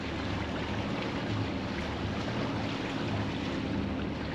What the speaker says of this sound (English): Engines are running smooth.